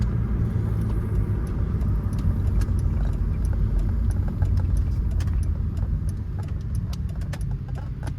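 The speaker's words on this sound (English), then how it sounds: "That's the nasty little rattle right there I'm talking about." A 2004 Chrysler Crossfire on the road gives off a steady low engine and road rumble, with scattered small clicking rattles from inside the cabin coming through close and repeated over the drone.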